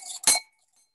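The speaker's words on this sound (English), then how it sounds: "I have a wine glass sitting here. Just and it's fun to go one direction. I can kind of get a grindy sound from it" A wine glass rubbed during a sound-tinkering workshop at a maker music festival gives one short, close, bright ringing scrape that fades within half a second, then silence.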